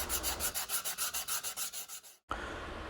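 Surfboard being hand-sanded with 80 grit sandpaper, a close, steady back-and-forth rasping in even strokes that pauses briefly before resuming.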